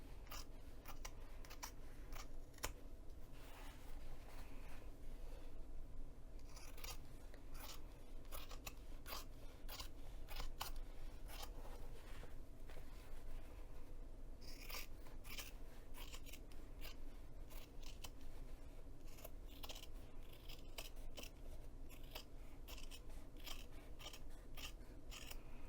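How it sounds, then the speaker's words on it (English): Scissors snip steadily through foam and fabric hexagons for an English paper pieced pouch, trimming the overhang in a quick, close series of crisp cuts with no talking. "just trim any overhang of the hexagons"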